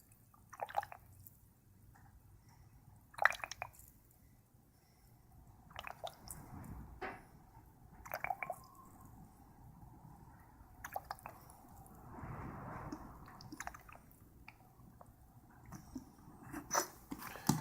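Liquid trickles and drips into the cells of a lead-acid battery being revived, producing scattered wet splashes and gurgles at close range with brief louder bursts, no talking.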